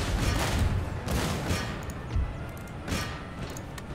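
Musket volleys crackle across the battlefield in Empire Total War, a dense rolling fusillade of overlapping distant shots with heavier thumping bursts and scattered pops, no voice over it.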